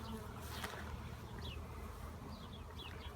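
Honeybees buzz around a hive entrance as foragers return loaded with pollen, a steady insect hum with faint passing buzzes over outdoor background, no talking.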